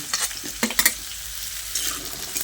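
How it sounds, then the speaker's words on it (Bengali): Pointed gourd fries in a pan alongside pumpkin and stems, with brief scraping stir strokes and light clinks of a spatula over a faint sizzle; short and close, no talking. "পটলগুলোকে দিয়ে আবারও 2-3 মিনিট মতো ভেজে নেব"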